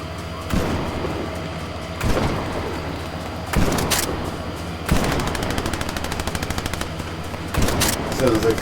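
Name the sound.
gunfire from hip-firing a weapon in a video game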